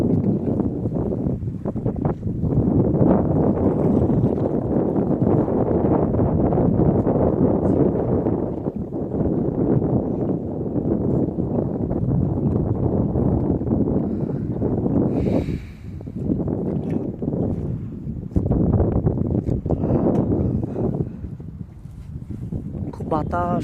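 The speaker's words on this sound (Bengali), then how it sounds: "খুব বাতাস, ঢেউ।" Strong wind buffets the microphone without a break on the Padma river at Godagari, Rajshahi, from a fishing boat, a loud rumbling roar with water and wave noise, while people talk over it now and then.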